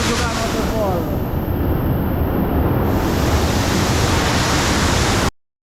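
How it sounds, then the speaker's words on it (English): Suzuka waterfall in Bali roars as a loud, continuous broadband rush of falling water, close by and unbroken, with some wind buffeting on the microphone. "We are in Suzuka waterfall."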